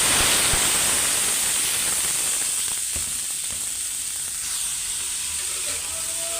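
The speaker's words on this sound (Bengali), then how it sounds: "তেল গরম হয়ে গেছে, ভাজিটাও বসাই দিব এখন।" Bitter gourd with onion, spring onion and green chilli frying in hot oil, a steady close sizzle and hiss running unbroken throughout, with faint stirring clinks.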